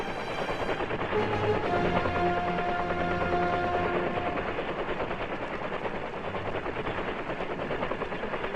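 Military rescue helicopter hovering low over jungle in the Vietnam War, its rotor and engine a steady, loud, dense roar running throughout with constant gunfire-like crackle mixed in and no talk.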